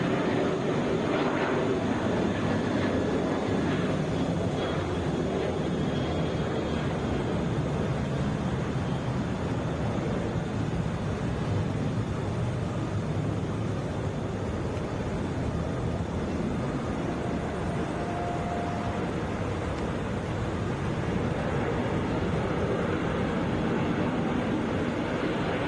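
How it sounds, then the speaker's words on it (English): A Delta Airbus A321 airliner bound for San Diego flies past at Atlanta, giving a steady, loud broadband roar that holds evenly throughout with no talk. "This is Delta 894 headed for San Diego, Airbus A321."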